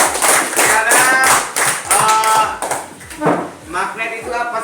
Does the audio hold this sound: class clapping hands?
yes